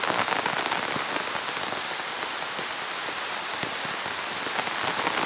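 Steady rain falls and patters on a surface, a dense continuous hiss with scattered sharper drops throughout, no voices.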